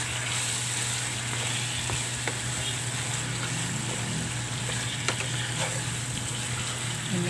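Chicken browning in seasoned oil in a pan, a steady close sizzle with soft crackles and occasional stirring scrapes, no voices.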